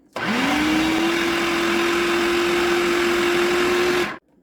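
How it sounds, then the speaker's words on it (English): A blender purees chunky fermented jalapeño hot sauce: a loud, steady motor whine that spins up quickly, holds an even pitch for about four seconds, then cuts off abruptly. "And we're going to puree some more."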